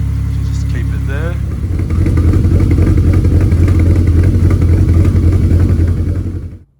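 A Ford Falcon FG engine starts and settles into a steady, loud idle as it warms up, a close continuous throbbing rumble; a brief voice is heard at the start.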